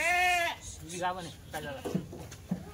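A loud sheep bleat opens, followed by a few shorter bleats nearby, with some talk in the background, at a livestock sale with Kathiyawadi sheep and goats.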